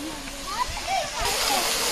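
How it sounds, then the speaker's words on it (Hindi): A small waterfall spilling over rocks at Bannerghatta Biological Park zoo in Bangalore, a hissing splash that grows louder toward the end, with a person talking over it. "ये रहा छोटा सा पत्थर के ऊपर वाटरफॉल्स,"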